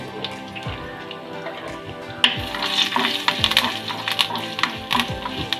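Mustard seeds and spices for a Karnataka tili saru tempering hit hot oil with a sudden loud crackling sizzle that keeps popping and spitting, alongside a few metallic stirring clinks.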